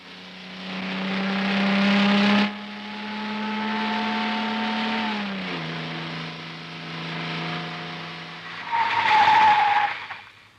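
A car pulls away with its tyres skidding and squealing in long, loud sustained tones, ending in a sharper screech as the engine revs.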